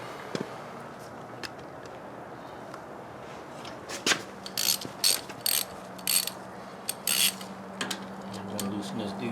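A 3/8-inch socket ratchet loosens a bolt on a Gilroy Indian motorcycle with an S&S 88 engine during an oil change, giving quiet rhythmic clicking followed by a louder burst of sharp ratcheting clicks with pauses between them.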